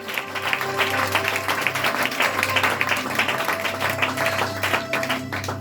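A church congregation applauding loudly and steadily, a dense wash of clapping hands filling the room for several seconds.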